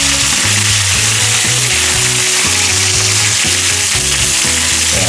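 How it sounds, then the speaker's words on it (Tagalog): Mackerel frying in a pan for a lemon-flavoured fried fish dish gives a steady, close sizzle of hot oil, continuous for the whole stretch with low tonal sounds underneath. "fry lang po natin ang ating side ng ating mackerel"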